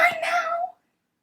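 A domestic cat meows once, close and fairly loud, in a drawn-out cry of under a second that ends abruptly into silence.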